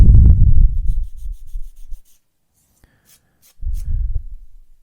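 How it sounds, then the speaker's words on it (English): Flash is sanded off a plastic part from a Hobby Boss M1070 and M1000 Oshkosh HETS model kit: two close bursts of rough scraping strokes separated by a short silence. "A few swipes of the sander and it's gone"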